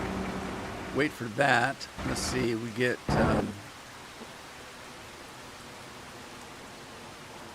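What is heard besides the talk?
thunder and rain in the video game Farming Simulator 25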